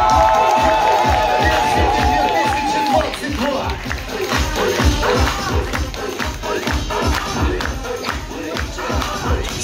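Audience at an anniversary party crowning a beer-themed queen claps in a rhythmic beat along with loud pulsing music, with cheering and a host's voice over the top early on.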